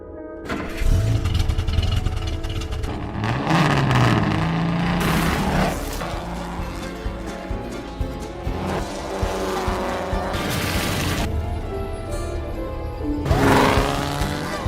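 Hudson, the old race car from the Cars film, runs laps on a dirt track: a loud, continuous engine roar that swells and fades with each pass, with sweeping revs and occasional gusts of gritty noise.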